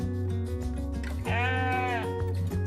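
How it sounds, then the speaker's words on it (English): A sheep lets out a clear wavering bleat, close and loud, over a steady background tone with music-like bands, alone without speech. "Spends her days with all of the other sheep."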